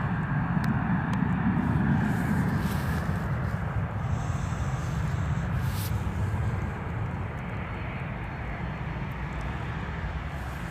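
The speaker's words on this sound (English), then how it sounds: "So Boeing 737 MAX." A Ryanair Boeing 737 MAX at Stansted Airport produces a steady, broadband jet engine roar, distant and sustained, slowly easing in level over about ten seconds.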